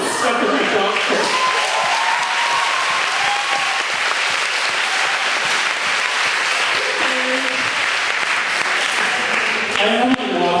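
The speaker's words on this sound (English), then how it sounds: "will you please give one more round of applause for Stephanie Dogfoot." Sustained applause from a live audience at a spoken-word performance event, dense and steady clapping filling the room throughout, with a few cheers rising over it.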